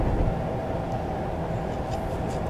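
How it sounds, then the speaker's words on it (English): Class 450 electric train passing in Train Simulator 2019, a steady broad rumble of wheels and motors with faint high squeals near the end, continuous and fairly loud. "450, that's a train."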